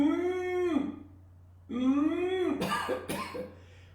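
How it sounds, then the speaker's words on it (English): A person practicing Ujjayi pranayama makes two long, drawn-out voiced breaths, each fading at the end, followed by a couple of short, sharp coughs close to the microphone in a quiet room. "When you get a little cough, is entirely normal."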